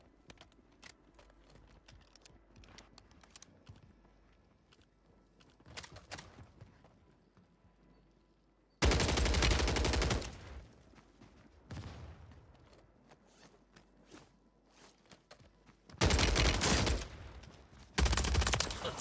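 Rapid automatic gunfire from a DG 58 LSW in Warzone on Rebirth Island, loud bursts cracking out in two or three long volleys after quieter keyboard clicks and light in-game movement.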